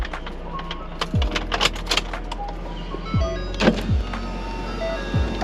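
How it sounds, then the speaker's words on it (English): A 2019 Ford F150 with its engine switched on hums low and steady while the power window motor whirs in short bursts, mixed with scattered clicks and clunks from the door during a driver's side glass replacement. "We're gonna turn this truck on for a second."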